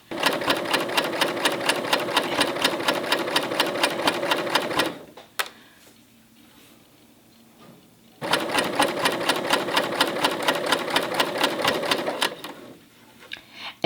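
A sewing machine with a compensating foot stitches in two loud, fast, steady runs separated by a few quiet seconds, close up with almost no talking.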